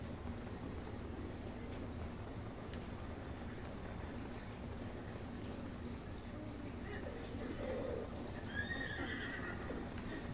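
A horse neighs and whinnies in the Breath of the Wild video game, with hooves clip-clopping beneath steady ambient game noise; the calls stand out briefly toward the end of a constant background.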